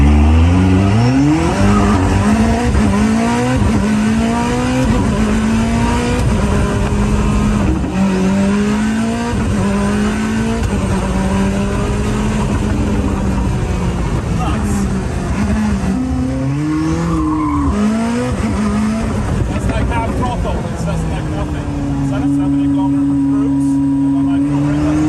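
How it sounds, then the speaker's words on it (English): A Koenigsegg Jesko pre-production car is driven hard on a race track, its engine revving up and down through gear changes with tire squeal, loud and close throughout, and someone talks over it. "I'm just going to show you some fun track driving with the Jesko pre-production car."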